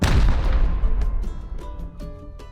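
Weapon fire in Rust aimed at a base wall, a loud opening blast followed by a series of sharp, decaying shots and impacts spaced irregularly across the clip, with no talk.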